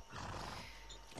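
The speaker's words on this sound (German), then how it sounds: "Ja, hier ist ein Pferd." A horse whinnies in the video game Far Cry 6, a faint, short neigh set against a low background of game ambience.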